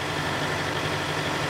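A tractor that pulls a passenger tram at Royal Gorge Bridge idles with a loud, steady, continuous rumble, unchanging throughout.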